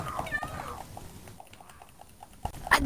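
A cat's meow from the Minecraft video game sounds faintly, mixed into quiet game noise with a brief louder blip near the end.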